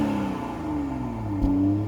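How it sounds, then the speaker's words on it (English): A 2021 Toyota GR Supra's 3.0-litre engine revving, its tone sweeping down then climbing sharply in a quick blip, heard close and alone with no voices. "let's go ahead and take a listen to that gorgeous engine."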